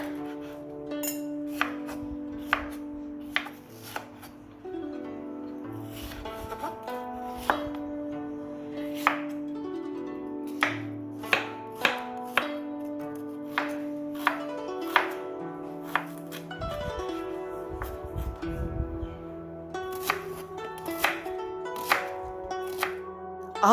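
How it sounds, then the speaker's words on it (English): Vegetables are chopped with a knife on a board for a Chinese sweet and sour chicken dish: a steady run of crisp, close knocks under soft background music, with no talk. "chop all of your vegetables"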